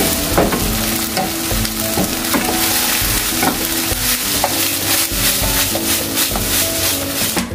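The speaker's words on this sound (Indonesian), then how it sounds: "Jadi ini diorak-arik dulu ya, dibikin." Eggs scramble in a hot oiled pan for fried rice, a loud constant sizzle with repeated scraping strokes of a utensil against the pan in a fairly regular rhythm.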